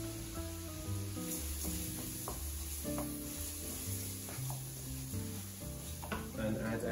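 Rice with onions and garlic sizzling in a pan as it is stirred, a faint continuous hiss partly buried under louder background music throughout.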